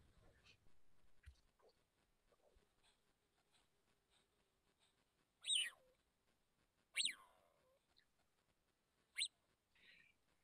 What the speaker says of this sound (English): this is a chirping sound, which is a really interesting vocalization